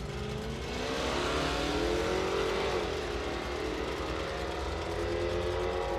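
A 2001 Ford Mustang and a Charger launch down a drag strip at Saskatchewan International Raceway, with a sustained, loud engine roar that rises and shifts in pitch as the cars accelerate away.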